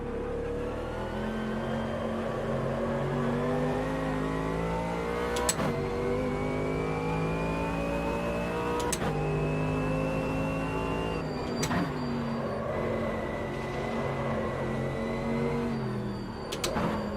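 A GT3 race car in Automobilista 2 revs hard through repeated upshifts, its engine note climbing and snapping at each gear change, loud and steady with no talking.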